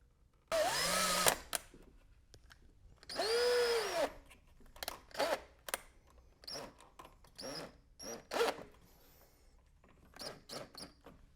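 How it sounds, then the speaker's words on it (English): Electric screwdriver driving switch plate screws during a light fixture install: two sustained whirring bursts that rise and fall in pitch, then a run of short clicks and brief tool spurts, close and fairly quiet. "putting on the plate with the plate screws"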